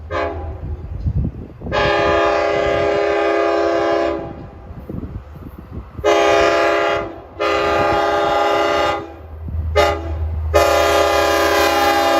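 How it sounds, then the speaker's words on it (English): A Long Island Rail Road DM30AC diesel locomotive sounds its horn in several loud, sustained chord blasts of varying length separated by short gaps, with rumbling engine and track noise underneath. "Depending on how the horn is blown, that can affect the grade."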